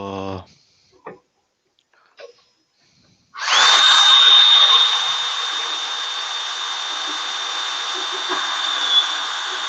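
A Ryobi cordless drill spins up after a few brief knocks and runs with a loud, steady high whine for several seconds, close by, with no talk over it.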